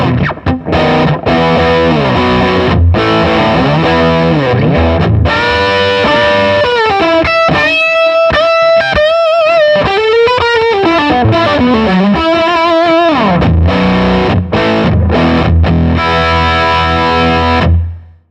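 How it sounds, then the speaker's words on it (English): A Les Paul style guitar on its bridge humbucker is played through a small 5-watt Vox AC4 C1 tube amp with the gain fully cranked and master volume at the middle, giving a loud, thick distorted tone with chords and sustained, bending lead notes. "Now gain cranked, bridge position humbucker on the Les Paul style guitar, and let's just see what it sounds"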